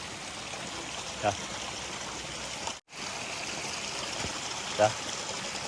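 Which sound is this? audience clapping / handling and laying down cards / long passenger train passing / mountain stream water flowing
mountain stream water flowing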